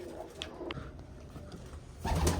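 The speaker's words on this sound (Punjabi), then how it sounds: "ਕਬੂਤਰ ਵੀ ਲਿਆ ਕੇ ਛੱਡਦੇ ਆ ਬਈ" Soft, low pigeon coos murmur over a steady background hum, with a louder rustle near the end.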